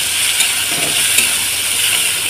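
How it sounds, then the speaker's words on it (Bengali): Chela fish sautéing with a ground paste of cumin, coriander, pepper and cardamom, giving a steady, close frying sizzle and hiss that runs without a break and with no talking. "দিয়ে আবার আমি এইভাবে মশলার সাথে কষিয়ে নেব"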